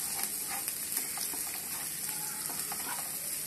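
Green chillies sautéing in a pan give a steady close sizzle with faint crackles and occasional stirring scrapes, continuous and fairly loud throughout.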